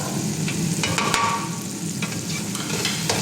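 Masala spices frying in oil in a pan for fenugreek leaf biryani, with a steady close sizzle and occasional scraping stirs, no talking.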